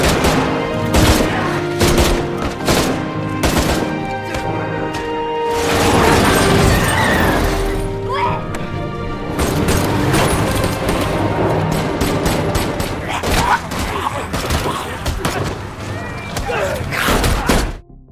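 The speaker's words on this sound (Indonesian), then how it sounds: "Dan akhirnya Chul Min terkena tembakan dari Sersan Huang." Bursts of gunfire and crashes from an action scene in a zombie train film, loud and repeated, layered under dramatic music and voices.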